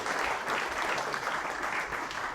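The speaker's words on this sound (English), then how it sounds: "we'll give you a round of applause for everything you've done." Audience at a civic presentation on Wellington infrastructure giving a round of applause, a dense, even burst of many hands clapping that fills the whole two seconds.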